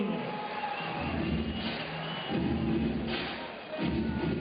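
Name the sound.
beach volleyball crowd cheering after a point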